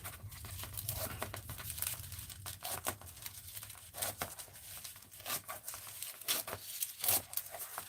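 Paper being cut and handled for a mixed-media art journal, close crinkling and snipping in irregular bursts, with no talking.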